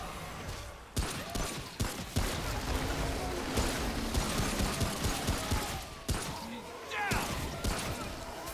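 Rapid gunfire from a repeater pistol in the video game Remnant: From the Ashes, a string of sharp repeated shots mixed with game noise and creature cries, with a voice talking over the action.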